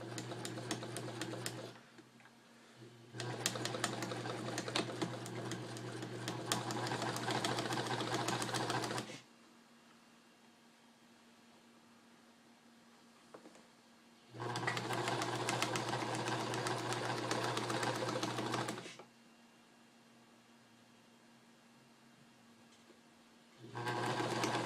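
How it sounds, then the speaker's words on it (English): A sewing machine stitching a DIY car shift boot runs in three long loud bursts of rapid steady whirring, separated by quiet pauses, with no talk. "I'm going to sew a little bit forward and I'm going to sew backwards."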